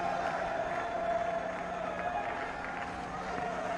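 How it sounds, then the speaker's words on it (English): Stadium crowd at a Test cricket match applauding a batsman's century with steady, broad clapping and cheering, heard at a distance under a commentator's voice. "Anil Kumble joining in the applause"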